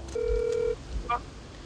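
A telephone being dialed to place a call: a sustained electronic tone followed by a brief higher beep, close and clear against quiet background.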